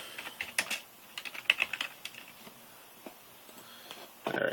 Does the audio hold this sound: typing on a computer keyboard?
yes